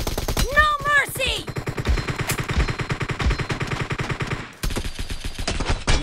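Video game gunfire rattles in rapid, close machine-gun bursts with sharp repeated shots that continue almost without pause, while a voice speaks briefly near the start.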